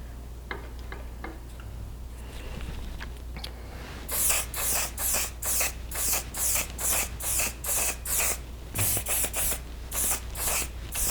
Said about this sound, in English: we're gonna spray it on just because, you know, we want to keep this to be as long lasting as possible